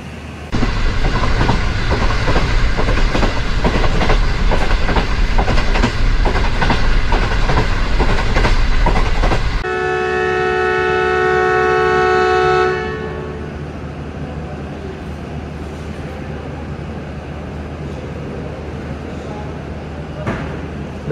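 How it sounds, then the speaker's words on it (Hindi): The 2 Down Khyber Mail train at Peshawar Cantt railway station at night, with loud rumbling train noise, then a long sustained horn blast that fades into quieter station ambience. "रात को पूरे 10 बजे डिपार्चर हॉर्न हो गया 2 डाउन खैबर मेल का पेशावर कैंट रेलवे स्टेशन पर"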